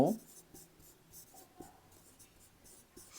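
A pen scratches out numbers on paper in short, faint strokes, close by and quiet, with small taps between them.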